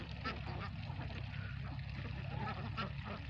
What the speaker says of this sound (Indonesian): Beginilah jadi tukang angon bebek.